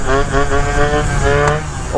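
A cheap scooter fitted with a performance exhaust rumbles with a harmonic engine tone while the front brakes are applied, the motor note shifting as the front suspension dives, with a short sharp squeak-like burst partway through.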